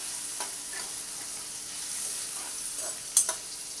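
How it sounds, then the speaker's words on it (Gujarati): Chopped tomato and green chillies sizzling in a hot tempering for batata poha, a steady close frying hiss with light stirring scrapes and a brief sharp clink near the end. "લીલા મરચાં પણ એડ કરી દઈશ"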